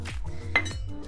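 A spoon clinks and scrapes against a bowl while shrimp ceviche is stirred together, a few short close metallic knocks in quick succession.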